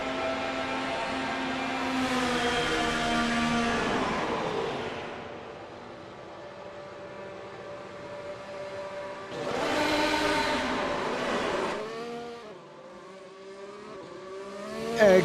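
A race car on a Las Vegas circuit comes down pit road, its engine droning loudly, fading, then surging again as it accelerates and shifts.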